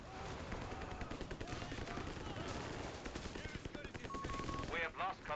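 Machine gun fire in Company of Heroes 3, dense rapid bursts of gunfire filling the battle soundscape, with a voice shouting over it and a short tonal signal near the end.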